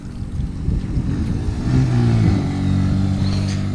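Motorcycles pass on a road during a long-distance ride on an 80cc bike, a loud mid-pitched engine drone that rises and shifts as the machines go by, close and steady with no talk.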